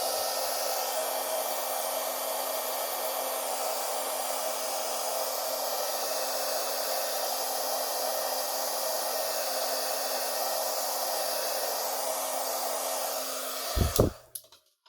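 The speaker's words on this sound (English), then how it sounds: "We need to heat the Versamark edges up that have the heat and stick." A heat tool blows a steady, loud, continuous whoosh while heating Versamark-stamped edges for gilding, running unbroken for about fourteen seconds before cutting off with a clunk.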